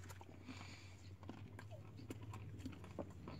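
Crunchy chocolate with nuts being bitten and chewed close up, a series of short crisp crunches over a steady low hum, with no talking.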